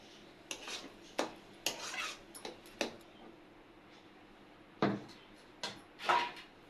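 Cooked taro leaf curry with fish head is poured out of a pot, heard as a quiet series of sharp metal clinks and scrapes of a spoon against the pot, spaced irregularly with brief gaps.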